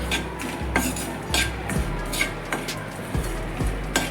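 A spoon repeatedly stirs and scrapes a pan of dry coconut, crushed cashews and raisins roasting on a low flame, giving regular scraping clinks every half second or so over a soft steady background, close and unvoiced.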